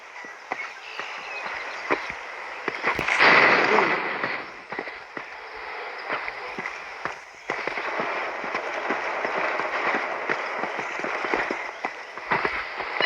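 A grenade bursts in a Counter-Strike 2 deathmatch, one loud blast early on amid a steady din of gunfire and footsteps from the game.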